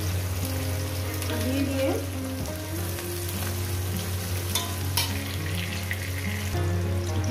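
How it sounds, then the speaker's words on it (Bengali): Chopped onion and green chili fry in a pan with a continuous close sizzle, under a low hum and a few brief spoken words. "এই পেঁয়াজটাকে মিনিমাম 3-4 মিনিট ধরে 4 মিনিট ধরে আমি পেঁয়াজটাকে ভেজে নেবো"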